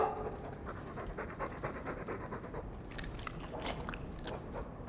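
A Mabari war dog in Dragon Age II pants rapidly and rhythmically close by, with wet chewing and crunching mixed in, no talk over it.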